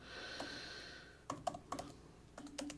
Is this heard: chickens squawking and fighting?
no